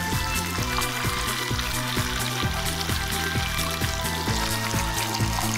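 Water is poured into a pan of tamarind fish curry. A continuous pouring, sizzling wash fills the whole stretch under a steady rhythmic thumping, with no one speaking.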